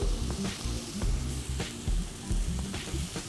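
Ingredients for Chettinad mutton soup sauté in a hot pan, a steady close sizzle with rhythmic scraping and stirring strokes recurring throughout.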